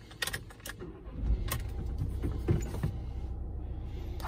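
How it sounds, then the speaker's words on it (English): A 2016–2021 Renault Kangoo starts up with a short crank followed by the engine catching and idling, heard close inside the car after a few clicks and key rattles. "when we start the car"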